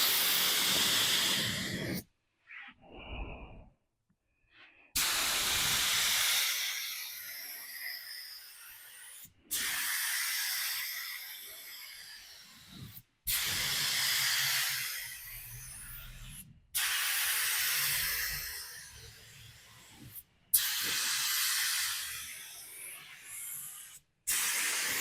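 Rust-Oleum aerosol spray paint laid down as a medium wet second coat, repeated long hissing bursts of several seconds each separated by brief silences, close and steady, with no talking.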